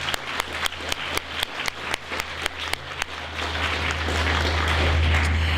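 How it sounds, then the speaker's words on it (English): A few sharp individual claps ring out, then swell into sustained applause from an audience filling a large room. "How about a round of applause for them?"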